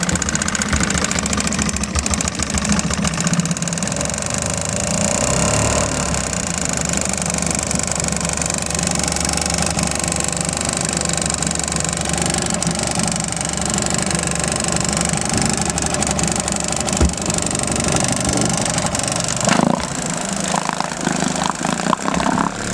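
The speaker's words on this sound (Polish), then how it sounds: "Taki silniczek do tej łódki." A small boat motor runs steadily throughout with a constant droning, knocking hum, close and fairly loud, with no voices.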